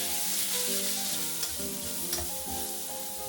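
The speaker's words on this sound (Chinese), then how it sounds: "大火焖炒。" Cucumber and pork stir-frying over high heat in a wok, giving a steady loud sizzle with repeated stirring scrapes and clinks throughout, no talking.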